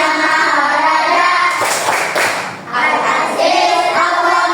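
Hand clapping in a rhythmic classroom chant for the Asmaul Husna with grade 4 pupils, bursts of claps coming in groups over a steady backdrop of voices.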